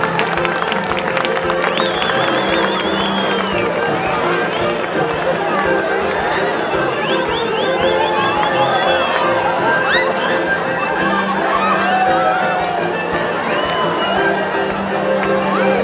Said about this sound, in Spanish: Que se escuche más fuerte el aplauso para la danza del Condite del municipio de Atlixco